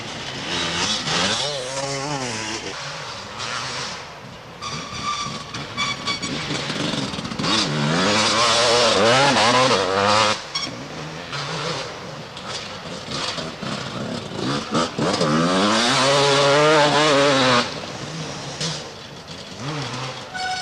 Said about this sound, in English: on the KTM 250 machine, certainly pushing his way hard through this section of the circuit